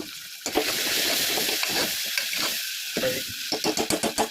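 Fresh curry leaves sizzle and crackle in hot oil while frying for a mutton curry, a steady close hiss with sharper pops bursting through, ending in a quick run of crackles.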